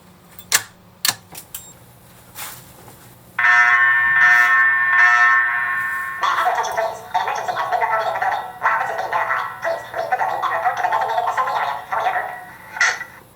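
A loud electronic fire alarm horn sounds in repeated pulsing bursts after a few clicks, continuing steadily and close by during a system test.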